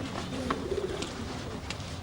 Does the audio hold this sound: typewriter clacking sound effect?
no